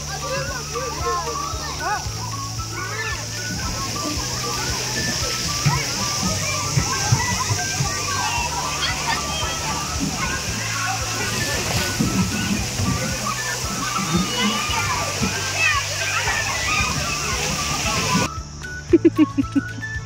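Water sloshes and splashes continuously at an outdoor water park in Australia, a steady wash of moving water with children's and adults' voices talking over it throughout.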